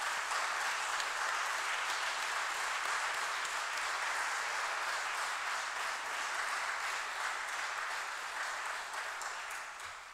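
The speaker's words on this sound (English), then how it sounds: "please give her a round of applause" Sustained audience applause for a pianist at a classical trumpet recital, a full, steady wash of clapping that holds for about ten seconds before slowly thinning.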